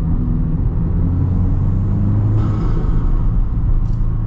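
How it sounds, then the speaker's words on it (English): A Subaru WRX Baja off-road build drives along with a loud, close engine rumble and turbo drone. The sound is steady and throaty and fills the whole stretch, with no talk. "Love that turbo noise."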